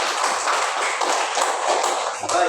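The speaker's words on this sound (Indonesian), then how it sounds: "Beri aplaus untuk kelompok 4." A classroom of ninth-grade students applauds group 4, a dense, steady patter of many hands clapping close by for a few seconds without a break.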